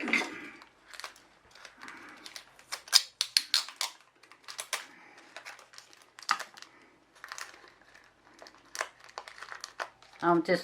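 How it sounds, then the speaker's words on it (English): Sticky tape is peeled and crinkled by hand while working on an epoxy vase, giving scattered crackly rustles and sharp tearing bursts in close succession, with a person talking intermittently over the handling. "So I'm just going to do a little test run here with the sticky tape."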